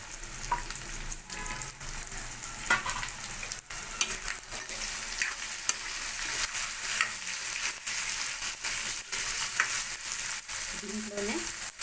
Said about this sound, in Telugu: ఈ ఆలుగడ్డలు దీంట్లో నూనెలను బాగా మరగనివ్వాలి